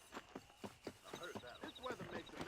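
Horse hooves drumming in a rhythmic galloping beat during a race in the video game Red Dead Redemption 2, fairly quiet, with faint chiming tones running alongside the hoofbeats.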